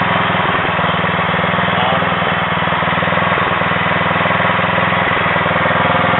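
A Craftsman rear-engine rider mower runs after its carburetor was cleaned, a loud, steady idling drone with a low rhythmic chug, close up and continuous.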